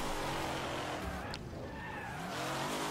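Cars race and skid in the video game Wreckfest: loud roaring engines and squealing tires fill the short stretch continuously, with a brief swoop partway through and no voices.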